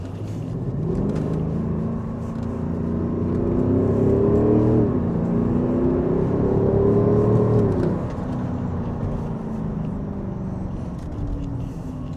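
An Audi SQ8 TDI diesel SUV driven in dynamic mode accelerates with a deep rising engine drone that swells, eases and swells again, heard from inside the cabin amid road rumble; no talk.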